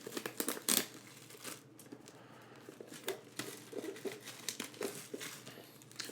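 Packaging tape and cardboard on a 10.5-inch iPad Pro box are torn and crinkled open in quiet, uneven bursts, with soft rustles and scrapes close by.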